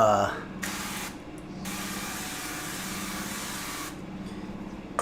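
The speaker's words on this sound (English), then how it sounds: "I'm going to spray these down with olive oil" A spray bottle of olive oil hisses steadily for several seconds, rising in two bursts over a low background hum, with a short voice at the start.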